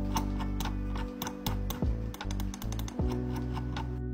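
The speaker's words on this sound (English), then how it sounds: "Scroll wheel." Rapid ticking notches from a Logitech G203 Lightsync gaming mouse scroll wheel being rolled, coming in quick uneven runs, close to the microphone over a steady hum.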